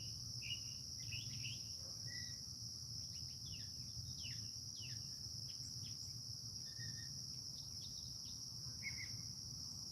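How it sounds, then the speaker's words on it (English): Crickets chirp loudly at night in a family cemetery, a dense continuous high trill up close with scattered bird-like chirps over a low steady hum, no talking. "Crickets is awful loud tonight."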